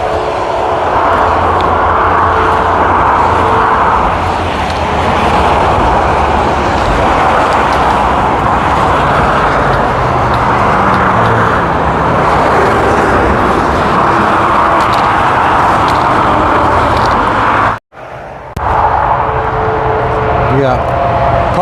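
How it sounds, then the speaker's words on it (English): Constant loud roar of traffic on Interstate 70, heard from a hiking trail crossing above the highway, a steady wash of tyre and engine noise with a brief dropout near the end. "I'm fixing to pass over Interstate 70. Quite noisy,"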